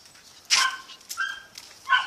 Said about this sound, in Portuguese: Um cachorro.